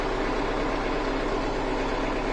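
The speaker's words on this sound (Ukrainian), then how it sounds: "Трактор працює справно." Steady, loud, close drone of a tractor engine running smoothly during mustard cover-crop sowing with Lemken equipment, with no voices.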